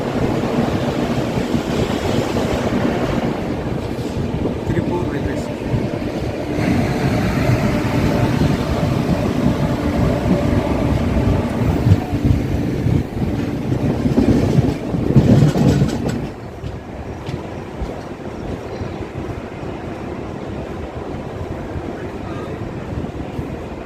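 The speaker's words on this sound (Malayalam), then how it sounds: "അപ്പോൾ അതും കഴിഞ്ഞ് വണ്ടി നീങ്ങിക്കൊണ്ടിരിക്കുകയാണ്" A passenger train on the Yesvantpur to Coimbatore run rolls steadily along, a continuous loud rumble with clattering wheels on the rails, swelling briefly before easing to a quieter, even roar.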